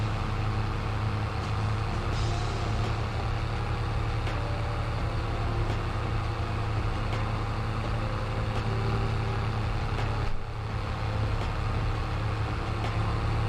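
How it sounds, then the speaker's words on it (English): A tractor engine in a farming video game drones steadily, loud and unbroken, with a deep low rumble throughout and a brief dip partway through; no one speaks. "This tractor is just so freaking loud though."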